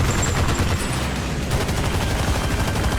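Rapid gunfire and explosive RPG hits in Armored Brigade II as a recon scout team fires on tanks, a dense, continuous barrage of crackling shots and booms at steady loudness throughout.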